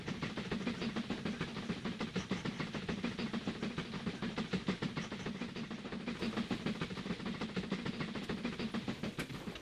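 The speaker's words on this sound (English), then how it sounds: "this train is still making its way down to the Toolworks" A game train from Mashinky rolls along the rails with a steady, even rumble and a dense run of rhythmic clicking, moderately loud and continuous throughout, with no talking.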